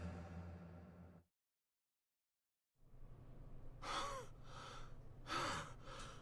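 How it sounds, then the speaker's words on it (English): A character in the Spirit Hunter NG video game gasps for breath at night after running, with several loud, sharp ragged gasps and heavy breaths following a brief silence. "Damn, that's some gasping."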